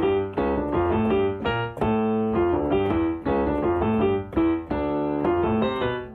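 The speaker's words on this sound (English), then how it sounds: "So I start off playing the melody in octaves." Salsa piano intro with the melody played in octaves, loud rhythmic phrases repeating in short bursts with brief gaps, no talking.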